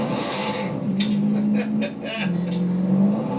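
A Dodge car engine revs in a couple of rising and falling bursts with throaty exhaust, heard fairly close, while people talk over it.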